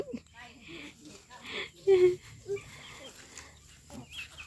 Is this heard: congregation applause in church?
no